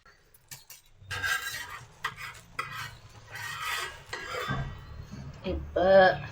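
A spatula scrapes and clatters against a pan while an egg dosa is flipped, giving several sharp metallic scrapes and knocks with short gaps between them, close and fairly loud, ending with a brief ringing clink.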